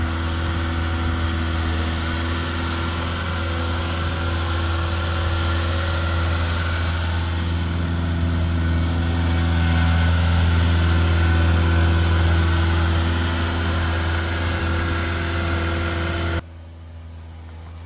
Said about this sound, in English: By the way, the tractor's right there.